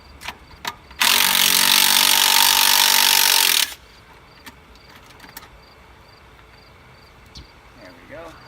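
A Ford Explorer 8.8 axle bolt being worked with a worn socket, one loud close burst of about three seconds of harsh mechanical rattling, then quiet with faint clicks.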